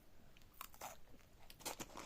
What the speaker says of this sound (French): Ça croustille.